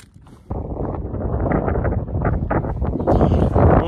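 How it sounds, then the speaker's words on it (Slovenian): Strong wind roars across a 2396 m mountain summit in the Kamnik Alps, a steady loud buffeting rush against the microphone that swells after a quiet start and gusts harder toward the end. "pa danes vetrovno"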